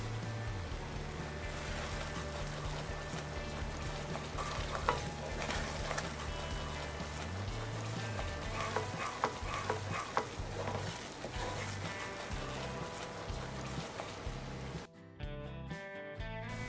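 A spoon steadily stirs a thick besan burfi mixture of gram flour and sugar syrup in a pan on the stove, giving a soft continuous scraping sizzle beneath steady background music.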